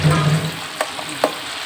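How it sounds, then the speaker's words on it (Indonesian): Crab fries in a pan with a steady, close sizzling hiss, broken by a couple of sharp pops or clinks from the pan. "Gorengnya nggak lama-lama seperti kita masak udang biasa"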